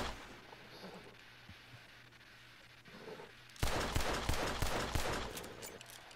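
Rapid burst of revolver gunfire in Red Dead Redemption 2, loud cracking shots in quick succession after a quiet ambient stretch with faint background hum.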